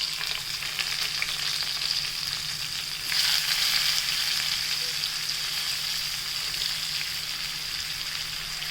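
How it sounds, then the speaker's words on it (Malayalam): Thinly sliced onions frying in hot oil for a prawn roast, a steady close sizzle throughout that swells briefly louder about a third of the way in before settling back to an even hiss. "ആ എണ്ണയിലോട്ട് നമുക്ക് ഈ തിന്നായിട്ട് സ്ലൈസ് ചെയ്ത് വെച്ചിട്ടുള്ള സവോള അതിലോട്ട് നമുക്ക് ഇട്ട് കൊടുക്കാം കേട്ടോ."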